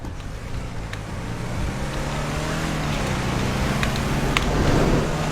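A car engine in the video game GTA 5 drones steadily, its low hum swelling slightly louder toward the end, with no talking.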